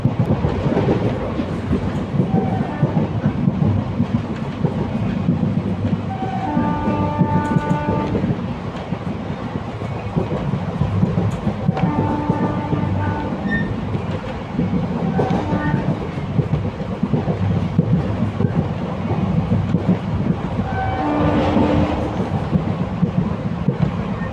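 Kalka–Ambala Cantt passenger train rolling through a curve on the Baddi line, a steady loud rumble of wheels and carriages with intermittent high squeal tones from the rails throughout.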